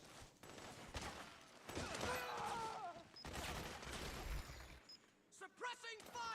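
Suppressing gunfire in the Metal Gear Solid 4 video game: dense bursts of shots and rattling fire under shouted game dialogue, dropping away near the end as voices continue.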